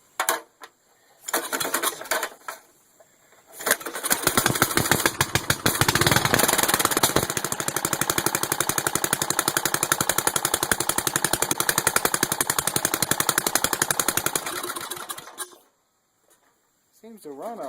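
A small engine, freshly serviced with a new spark plug and still needing a carburetor cleaning, is started and revs loudly in neutral for about ten seconds with a rapid rattling beat, then cuts off; voices speak briefly around it.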